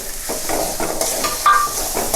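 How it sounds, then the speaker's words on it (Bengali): Spiced masala fries in a pan while green peas are stirred in for a Bengali flat bean dish, with close, loud sizzling and quick rhythmic scrapes of the spoon. "আর একটু কষিয়ে আমি এর সঙ্গে মটরশুঁটিটা মিশিয়ে দেবো"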